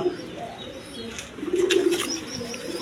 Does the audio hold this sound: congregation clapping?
no